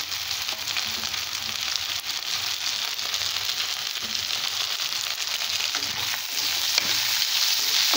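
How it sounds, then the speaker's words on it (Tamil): Chopped ivy gourd sautéing in a pan with softened tomatoes for a tangy tamarind gravy makes a continuous crackling sizzle, with faint stirring scrapes, growing slightly louder toward the end. "ஒரு 1 நிமிஷம் வதக்கிக்கலாம்."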